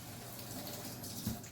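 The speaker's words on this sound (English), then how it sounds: "Rinse my fingers off." Tap water runs steadily at a kitchen sink as fingers are rinsed under the faucet during baked ziti preparation, a soft, even broadband wash close by with one brief louder splash near the end.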